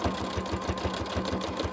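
A sewing machine runs steadily during free motion quilting, its needle thumping in a fast, even rhythm with a mechanical whir, close and alone.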